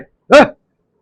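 A single dog bark from GTA 4, one short, loud, close yelp that stands alone with silence around it.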